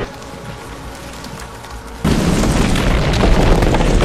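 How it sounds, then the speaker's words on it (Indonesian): Missile fire and explosions from an Avatar film battle scene: a quieter stretch gives way to a sudden loud, sustained roar of booming blasts and rumbling debris that fills the rest of the moment. "Sementara kolonel dan prajurit yang lainnya terus menembakkan misil,"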